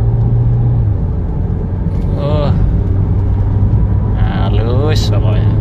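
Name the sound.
dual clutch Ford Fiesta 1.5 accelerating on toll road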